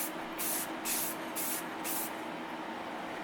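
Aerosol spray paint hisses in short, light repeated bursts while weathering a model locomotive, about five evenly spaced sprays with brief pauses between, fairly close and with no talking.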